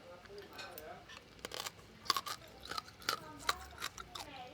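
Crispy pork being chewed in Bangkok, with several sharp crunching bites spaced out over a few seconds, close to the mouth against quiet background chatter.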